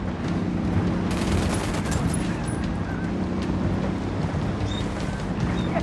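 Heavy gunfire rages in the video game Ghost Recon Wildlands during a Villa Verde campaign mission on Extreme difficulty: a dense, continuous roar of shots and rumbling, with sharper bursts clustered early on and no talking.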